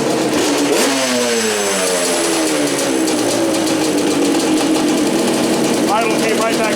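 A Yamaha Banshee ATV engine with a lean pilot/main jetting setup cranks, revs up sharply, then settles back toward a steady buzzing idle, loud and close with a brief blip near the end.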